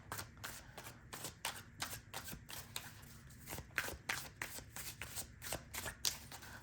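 Tarot cards being shuffled in a quick, steady riffle of papery flicks and soft slaps, close and fairly quiet, continuing without pause throughout.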